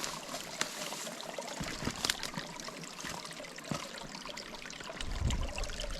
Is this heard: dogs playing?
no